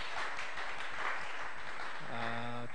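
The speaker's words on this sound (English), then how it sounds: "Can't you clap for this?" Congregation clapping during a Sunday church service in Rwanda, a steady broad wash of applause filling the room, with a sustained musical tone rising near the end.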